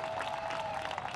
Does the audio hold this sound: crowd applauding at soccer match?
yes